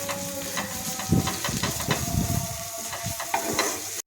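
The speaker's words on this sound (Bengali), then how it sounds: "এবার দিয়ে দেব কাঁচা লঙ্কা বাটা আর দেব রসুন বাটা। ভালো করে নেড়ে নেব, ভালো করে ভেজে নেব।" Green chilli paste and garlic paste stir-fried in hot oil, a steady close sizzle with scraping stirring strokes throughout, no voices.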